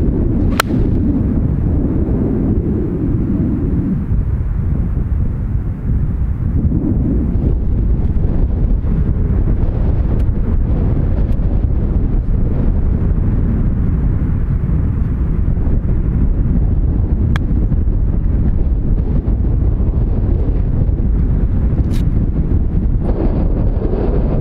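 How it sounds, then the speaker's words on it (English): Strong gale-force wind buffets an outdoor microphone on a golf course, a loud, continuous low roar with gusting rumble that persists for the whole stretch, with no voices. "it's absolutely blowing a gale again, so I'm hoping you can hear me all right"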